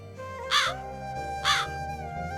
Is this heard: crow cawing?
yes